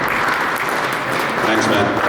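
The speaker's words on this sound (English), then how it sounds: "Please give them the round of applause." Conference audience at a panel discussion in Tallinn claps as speakers come on stage, producing a dense, steady wash of applause at constant loudness, with faint voices mixed in.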